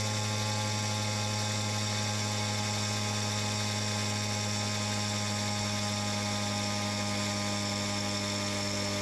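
Homemade 1000-watt electric motor running under load on a dynamometer, a continuous steady electrical hum and whine with strong tonal drone, unchanging and loud throughout.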